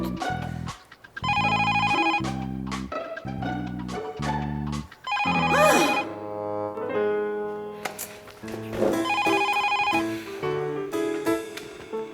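A telephone rings loudly in repeated bursts of bright, tonal rings with short gaps between them, heard alone in a Taiwanese drama scene.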